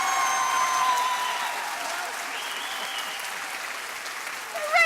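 A debate audience claps during a vote on a motion about personalised medicine, steady sustained applause filling the room, swelling briefly at the start and again at the very end.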